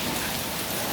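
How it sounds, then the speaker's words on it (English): Steady rain falls in a dense, even hiss throughout, close and continuous with no voices. "Hey, it's raining."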